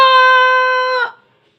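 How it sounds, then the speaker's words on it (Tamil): A rooster crows, a single sustained nasal call held for about a second before it cuts off, close and clear with nothing else around it. "வானத்தை பார்த்து தலையை உயர்த்தி கொக்கரக்கோ என ராகம் போட்டு பாடியது."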